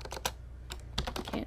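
Quick, close bursts of typing on a computer keyboard, with clustered keystrokes separated by short pauses.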